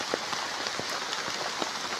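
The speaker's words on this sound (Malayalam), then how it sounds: "മഴ ശക്തി പ്രാപിച്ചു വരികയാണ്," Heavy rain pours down steadily in Cherusholai during flooding, a dense, continuous hiss with scattered louder drops hitting nearby surfaces.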